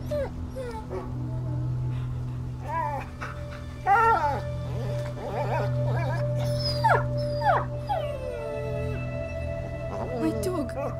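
A dog whimpers, yips and lets out wavering howls in A Plague Tale: Innocence, the cries rising and falling in bursts over a steady low droning background, fairly close and continuous.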